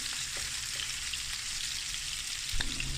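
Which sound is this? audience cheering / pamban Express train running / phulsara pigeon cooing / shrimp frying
shrimp frying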